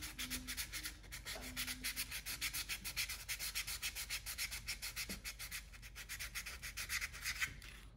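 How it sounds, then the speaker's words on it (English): Steady back-and-forth sanding on a carved wooden gadwall drake head, smoothing away tool and grinding marks; close and continuous rhythmic rubbing strokes with no talk. "So I'll finish sanding this,"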